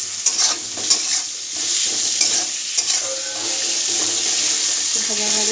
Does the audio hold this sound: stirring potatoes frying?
yes